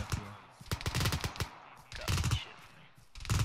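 Sustained machine-gun covering fire in a military video game, with several loud, rapid bursts of close gunfire separated by short gaps and a faint voice underneath.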